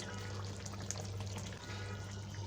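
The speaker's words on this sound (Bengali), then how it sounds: "এবার এটা কুক করব যে পর্যন্ত ঝোলটা শুকিয়ে না গ্রেভিটা একটু ঠিক হয়" Rohu fish kalia gravy simmers and sizzles in a pan, a steady close bubbling and frying hiss with a low hum underneath, and no voice over it.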